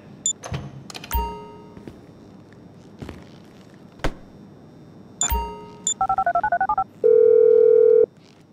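A phone being dialed to set off a detonation in GTA 5: scattered sharp clicks and key thunks, then a quick run of touch-tone beeps and a steady dial tone, clear and close.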